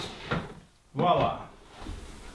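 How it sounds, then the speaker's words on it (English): A plastic drawer slides open and shut after being reshaped in an oven, giving a short scraping rumble followed by a louder sliding push and a softer settling thud, with a voice talking around it. "Okay, let's try the drawer."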